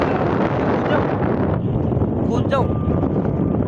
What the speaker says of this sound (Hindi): इतनी तेज़ हवाएं हैं कि मेरे बाल ऊपर खड़े हो गए